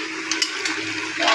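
River crab gravy with coconut boiling in a pot, stirred as it comes to a boil, giving a close, steady bubbling hiss with a few light utensil scrapes.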